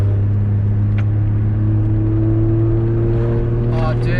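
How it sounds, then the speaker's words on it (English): Exhaust of a Nissan R33 with a forged RB25DET engine while driving, a loud steady low drone heard from inside the car with faint talk near the end. "Oh, dude, that exhaust sounds good."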